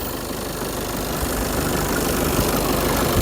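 A 2017 VW Passat 2.0 diesel engine idles steadily with a constant rough clatter, close and fairly loud, with no voices.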